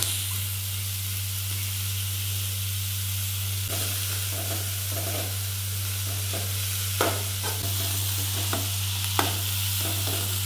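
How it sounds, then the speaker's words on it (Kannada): Greens with tomato and carrot being stirred in a frying pan, a steady sizzle running throughout with intermittent scraping strokes of the spoon, close and fairly loud, no voices. "ಚೆಂದ ಮಿಕ್ಸ್ ಮಾಡಬೇಕು ಫ್ರೆಂಡ್ಸ್"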